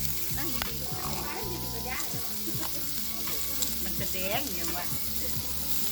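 Pork sizzles and crackles steadily on a hot Thai tabletop grill (moo kratha), with clinks of utensils and occasional stirring sounds; voices murmur faintly in the background.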